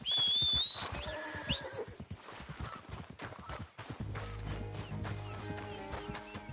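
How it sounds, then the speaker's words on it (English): A horse in the video game Red Dead Redemption 2 runs off, hooves clip-clopping in a quick irregular rhythm with a whinny near the start, close and clear over faint background ambience with a little speech. "My horse ran away."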